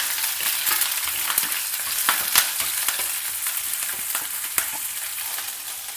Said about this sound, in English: Now add in the slit green chilli and saute for 2 to 3 minutes